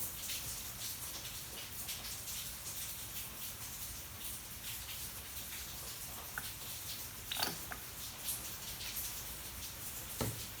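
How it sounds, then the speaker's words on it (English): Rain falls steadily in a soft broadband hiss, with scattered drips and taps landing close by. "you can hear all that rain"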